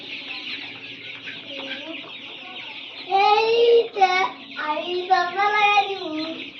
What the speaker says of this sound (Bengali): পাঁচশো মুরগি কিন্তু এখানে আছে।